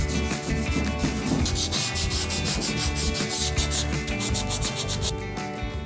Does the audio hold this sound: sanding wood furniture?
yes